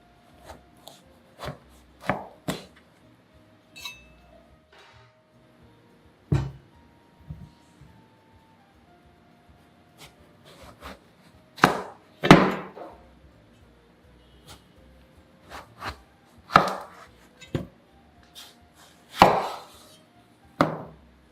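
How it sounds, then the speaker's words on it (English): A knife chops Chinese winter melon into chunks on a cutting board: a series of crisp, irregularly spaced thumps, some in quick pairs, close and clear against a quiet kitchen background. "Chop the wintermelon to chunk sizes and remove the rind and seeds."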